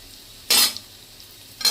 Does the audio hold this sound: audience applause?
no